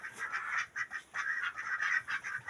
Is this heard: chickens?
yes